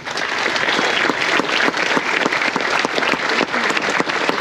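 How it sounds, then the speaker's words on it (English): An audience applauds steadily and loudly during a charity-themed talk at an event, with dense clapping that continues throughout without a break and no talk over it. "So give yourselves a round of applause."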